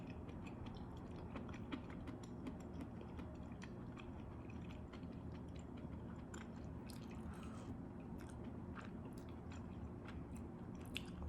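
Close, steady mouth chewing of mushroom pieces from a pork neck soup with mixed vegetables, a soft, continuous squishy bite-and-chew texture lasting throughout with no talking.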